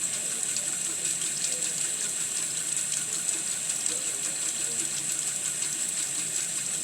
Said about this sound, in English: I'm going to turn that water off.